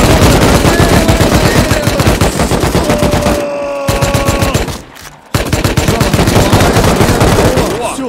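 Gunfire during a raid in the Rust video game: loud, dense automatic bursts fire almost nonstop, with a brief lull around the middle before the shooting resumes.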